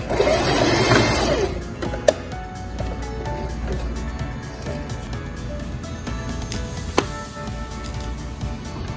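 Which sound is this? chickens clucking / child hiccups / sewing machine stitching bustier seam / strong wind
sewing machine stitching bustier seam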